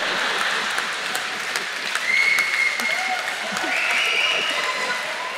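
A Tamil debate audience at an Oxford, UK special event claps in steady applause for several seconds, with a voice speaking over the clapping.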